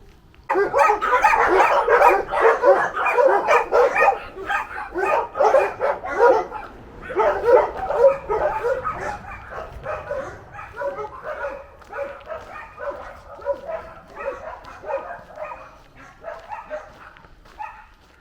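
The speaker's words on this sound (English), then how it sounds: "I can hear a dog barking." Several dogs bark repeatedly along an old railway track walk near Aberfoyle, a steady run of overlapping barks and yips at moderate distance, loud and continuous throughout.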